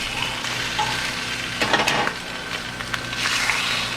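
Bread frying in a pan for a full English breakfast, with a constant close sizzle and occasional scraping stirs and clatters over it, no voices.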